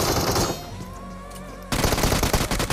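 Automatic gunfire in BGMI during a jump shot: a rapid, loud burst of shots, a brief quieter gap, then another dense volley.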